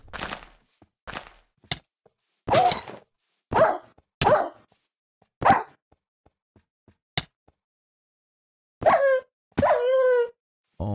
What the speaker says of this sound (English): Those dogs. It's the dogs. It's always the dogs.